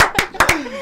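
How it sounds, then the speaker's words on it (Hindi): A few sharp hand claps at a Hindi sports quiz show, close and loud, sounding in an uneven rhythm with a voice heard between them. "तालियां तालियां तालियां।"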